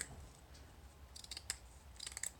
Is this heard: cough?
no